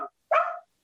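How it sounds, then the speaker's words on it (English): Dogs barking inside a home, a brief clipped yip followed by a single louder, close bark, short and sharp against silence. "sorry, my dogs"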